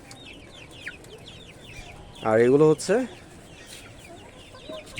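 Desi hens with forty-day-old chicks on a farm, heard as a soft chorus of clucks and chirps with one loud squawking cackle near the middle, while someone speaks briefly.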